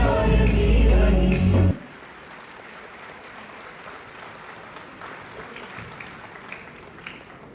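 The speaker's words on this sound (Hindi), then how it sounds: "आज में जोरदार तालियों के साथ हम सभी जुड़ जाते हैं इस स्वागत में" An audience at a welcome ceremony for a corporation's foundation day claps loudly for under two seconds, then the applause cuts off abruptly, leaving a quiet room with faint scattered noise.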